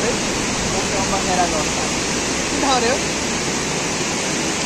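A river stream beside the road into Burtibang on the way from Gulmi through Baglung toward East Rukum rushes steadily in broadband noise, and faint voices rise briefly above it.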